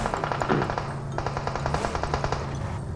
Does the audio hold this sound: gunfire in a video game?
yes